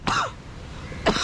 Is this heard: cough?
yes